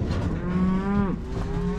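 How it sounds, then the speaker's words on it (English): Cows and calves on a ranch pasture moo loudly and close by, with several overlapping drawn-out calls of rising and falling pitch filling the whole stretch. "These calves and cows, we'll let them out."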